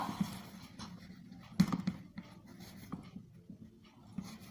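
Chalk or pen scratching across a board during a maths lesson on sets, soft intermittent strokes close by with a low room hum beneath and no talk.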